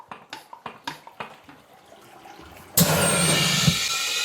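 A DPF cleaning machine starts feeding water through a clogged 236k-mile diesel particulate filter packed with ash: a few faint clicks and taps, then a sudden loud, steady rush of water and air that holds to the end, with a brief thump near the close.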